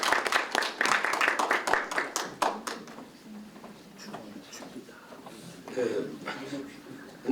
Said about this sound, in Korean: 따뜻한 박수로 환영해 주시면 고맙겠습니다